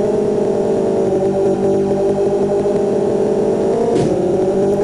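Car engine in the Game Boy Advance racing game Ford Racing 3, a steady, buzzy synthetic drone that holds constant and loud from start to end, with no talk over it.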